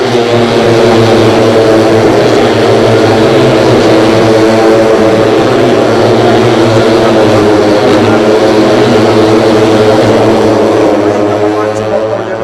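A pack of 150cc racing motorcycles screams past in a road race, their high buzzing engines layered in a loud, continuous drone that stays close throughout, with a race commentator speaking underneath.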